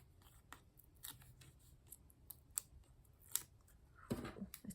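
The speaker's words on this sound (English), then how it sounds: "Close those scissors" Scissors handled and closed during a die-cut layered card stamping project, faint scattered snips and clicks on a quiet tabletop, ending with a louder rustle and snap near the close.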